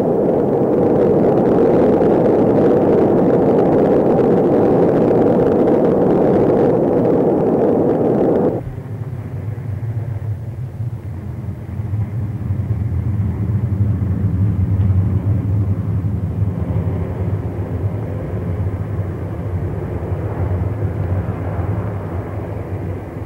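A rocket lifting off, a deep powerful roar at first that abruptly drops to a lower, sustained rumble continuing steadily to the end, loud and without speech.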